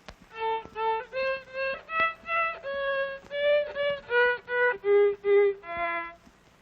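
Slow, separate bowed notes on a small child's violin, each tone swelling and fading in a steady practice rhythm, about a dozen notes moving up and down in pitch, clear and close with no talking.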